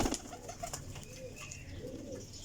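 A large, roughly two-year-old flying pigeon coos softly in a short, low throaty burble, close and quiet, with no talk over it.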